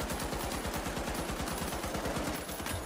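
Rapid automatic gunfire in the shooter game The Finals rattles on in dense, loud bursts for a few seconds with no pause.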